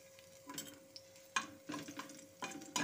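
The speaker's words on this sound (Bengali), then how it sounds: "এই তেলের মধ্যে এখন আমি ফোড়ন করে নেব" Dried red chilies, nigella seeds and crushed garlic go into hot mustard oil for tempering. The sound is quiet, with short bursts of sizzling and stirring in an uneven rhythm over a faint steady hum.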